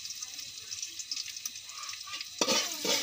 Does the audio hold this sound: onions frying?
yes